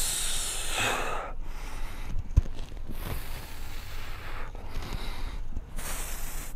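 Rhythmic breathing during a hip mobility exercise, with several close, airy inhales and exhales in slow cycles, each breath a soft hissing rush separated by brief quieter gaps.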